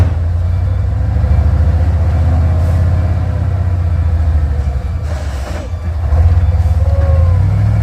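A heavy Hino truck engine laboring on a climb, a loud continuous low rumble with steady drone and brief dips, close by and alone without talk.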